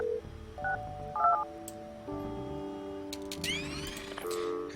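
Telephone dialing in the game Project Highrise: a short run of distinct touch-tone beeps, followed by sustained layered tones and a brief rising electronic sweep, moderately quiet with no talk.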